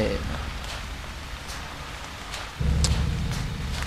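Steady rain hisses throughout, with a deeper rumble swelling in near the end, like distant thunder under the downpour.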